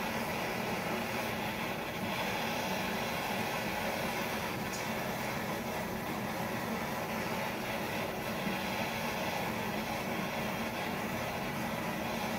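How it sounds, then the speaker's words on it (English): Blowtorch caramelizing the sugar on top of a crème brûlée, a continuous loud, steady roaring hiss that fills the whole stretch without pause, close and alone with no talking. "Then we're gonna take our blowtorch."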